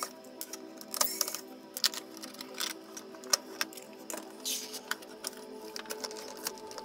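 Small plastic parts being unscrewed from a plastic case, with scattered close, sharp clicks and light ticks in an irregular rhythm over a faint steady hum; no one talks.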